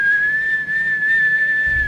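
A single sustained, steady whistled tone, loud and close, holding nearly one pitch for about two seconds with slight wavering and no talk.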